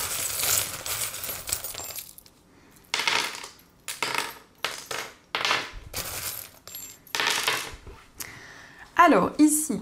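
Small divination charms cast and tumbling onto a surface in several short clattering bursts, metallic clinks and jingles separated by brief pauses, close and moderately loud.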